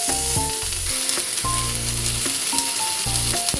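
Bottle gourd leaf stalks frying with vegetables in a pan give a steady, close sizzle that runs throughout, beneath a layer of melodic background music.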